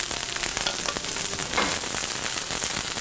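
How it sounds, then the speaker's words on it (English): Vegetables with broccoli frying in a hot pan while being stirred, a dense continuous sizzle and crackle close up with scraping movement and no talking. "Give this a little stir."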